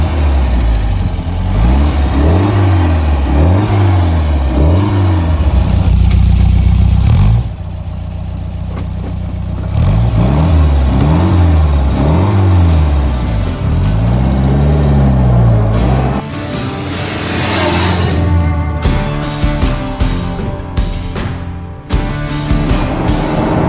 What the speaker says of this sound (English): Fires right up, got a sport exhaust.